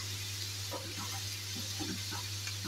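Chopped onions sautéing in rendered chicken fat for a spring roll filling, a steady close sizzle with scattered stirring scrapes over a constant low electrical hum.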